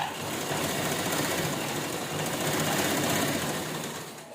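Sewing machine running steadily as it stitches the side seam of a cotton top, a loud continuous rapid whir that stays close and alone for several seconds.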